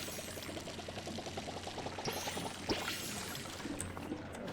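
In the farming video game Palia, a watering can pours over crops with a soft, steady trickle and splash, faint and continuous under light game ambience.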